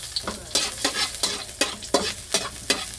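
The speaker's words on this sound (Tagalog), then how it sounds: "Kung gusto nyo igisa, ako igisa ko siya para mas lumabas yung kanyang aroma" Garlic, onion and ginger sauté in a hot pan, frying with a steady sizzle as a utensil stirs and scrapes in regular, close strokes about every third of a second.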